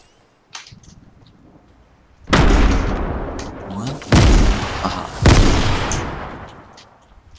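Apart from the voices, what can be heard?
gunfire in the video game Fortnite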